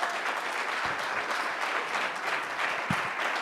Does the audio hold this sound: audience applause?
yes